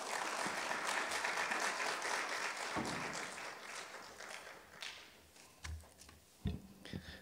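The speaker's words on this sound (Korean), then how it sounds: "큰 환영의 박수로 우리 목사님을 맞이하도록 하겠습니다" A church congregation at a Sunday service applauds warmly to welcome the pastor. The dense clapping is loudest at first, then thins out into a few scattered claps and taps.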